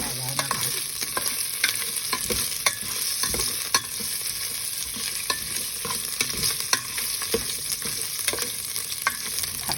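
Lemongrass stir-fried in a pan with galangal for a Thai beef curry, giving a steady close sizzle with a continuous bright hiss and frequent scraping clicks of a utensil stirring, no voices.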